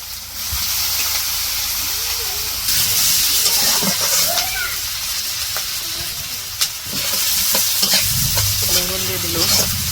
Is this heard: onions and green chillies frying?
yes